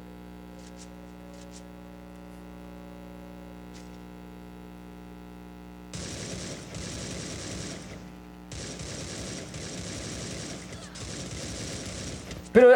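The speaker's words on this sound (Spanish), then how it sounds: "Pero le he tirado 40 disparos en la cabeza." Gunfire from the Free Fire video game erupts in two sustained bursts of rapid shots after a quiet stretch of steady electrical hum, loud against the faint background.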